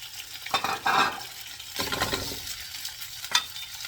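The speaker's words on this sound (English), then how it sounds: "Once you add the cold protein in, right, into a hot pan" Cold beef hitting a hot pan for teriyaki fried rice, sizzling and frying steadily with a few louder bursts of spatter and scraping, close and without talk.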